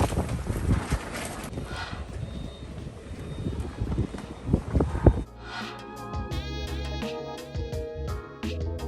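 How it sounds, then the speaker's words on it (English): A strong south-easterly wind buffets the microphone at a boat haulout yard, rough gusty rumbling for about five seconds before it gives way to fainter, tonal background sounds. "It's blowing a fairly reasonable sou'easter at the moment."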